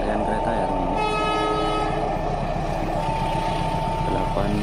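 A passenger train of nine coaches hauled by a CC203 diesel locomotive crosses a bridge on Indonesian railways, its engine rumble loud and close, with a horn blast sounding briefly near the start.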